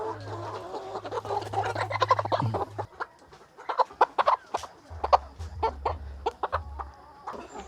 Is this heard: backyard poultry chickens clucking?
yes